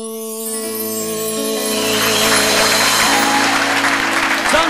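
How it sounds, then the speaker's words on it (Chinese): Studio audience at a televised singing contest bursts into applause as a sung melody with backing music fades, the clapping swelling into a dense, loud, steady roar. "掌声鼓励鼓励"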